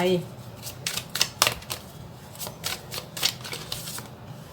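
Tarot cards being shuffled and drawn: a run of crisp, quick riffles and flicks, close and moderately loud, over a low steady hum.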